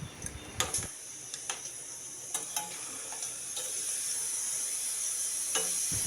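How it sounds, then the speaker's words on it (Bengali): Hilsa fish dropped into hot oil, a few sharp clinks and spoon taps over a bright, continuous sizzle that grows steadier and fuller. "এখন আমি মাছটা তেলে ঢেলে দিলাম"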